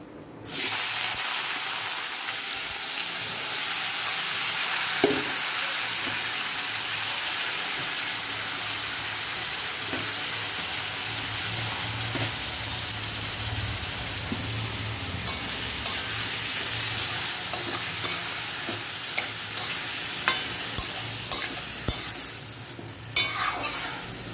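Five-spice tempering fries in hot oil for a banana stem curry, giving a continuous close sizzle with light stirring clicks and taps that grow more frequent toward the end.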